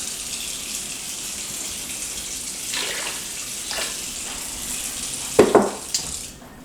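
A kitchen tap runs into a soup pot in a steady, hissing stream, with a few clunks and splashes near the end.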